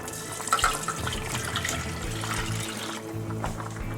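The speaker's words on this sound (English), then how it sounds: "we're going to pour in our milk." Milk poured into a pot of melted butter, a steady liquid splashing and trickling that runs for several seconds at a moderate level with faint kitchen background noise.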